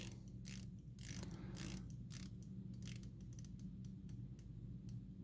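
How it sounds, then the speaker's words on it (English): Rotating bezel on an Orient Mako II automatic diving watch being turned, giving a quick series of sharp ratcheting clicks, close and crisp against a low background hum. "There's 2 clicks per minute on the rotating bezel."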